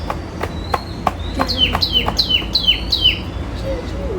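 A sparrow chirps in a short series of quick bright repeated notes, with sharp clicks and knocks around it and faint background noise.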